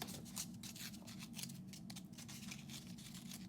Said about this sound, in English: when you have it and you are all done with one sheet, because it's all worn down, you just rip it right off